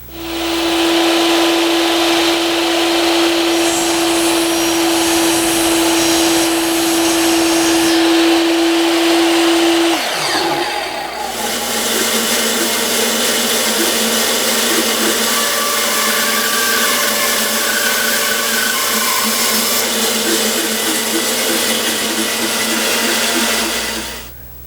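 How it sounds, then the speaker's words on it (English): Power saw shaving a tapered midcentury-style wooden leg at 25 degrees, the leg pinned to a holding block; a loud continuous whine runs steadily, shifting pitch around the ten-second mark as the blade engages, then droning on. "I use pin nails to attach the leg to a block of wood so that I can hold it square into the saw."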